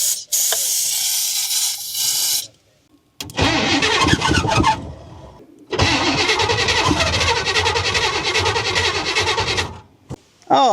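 A 1966 Chevrolet El Camino engine cranks with its starter jumped directly, loud and close, in two long bursts separated by a brief pause, with hissing noise at the start.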